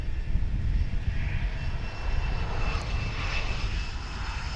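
A Delta airliner taxiing at DFW International Airport, a loud, steady engine roar with low rumble and a faint whine, continuous and close.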